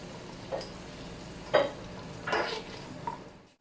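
Carrots and cabbage being stirred in a pan for a macaroni dish, a soft steady sizzle broken by a few short scraping stirs of the spoon, close and fairly quiet, with no talking.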